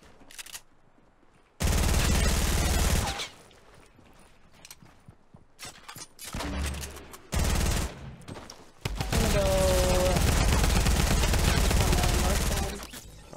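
Rapid SMG fire from Fortnite comes in loud, dense bursts between quieter gaps, with one long sustained volley near the end, all close and harsh.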